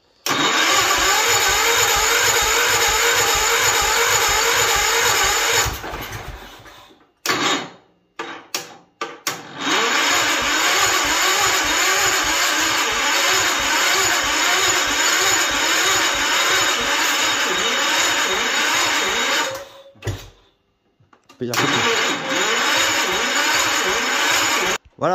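A Wheel Horse C-160 lawn tractor engine, its carburettor just refitted, runs loud and close with a pulsing chug, cuts out abruptly, sputters through restart attempts, then catches and runs again before stopping once more.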